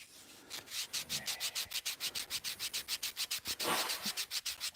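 Rhythmic scraping of a sanding block rubbed back and forth over balsa wood, about five strokes per second, close and steady, with no voices.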